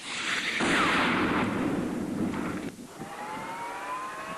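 Heavy barrage of blasts fired at a burning oil well blowout in Kuwait, a loud sustained roar of rumbling detonations and fire noise, with a high whistling streak and dense low thunder throughout.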